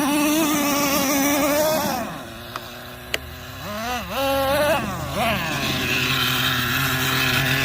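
A Traxxas Nitro Revo 3.3 nitro RC truck engine, running hot, screams close by in a buzzing drone that dips and surges in pitch through several revs, with a couple of sharp clicks.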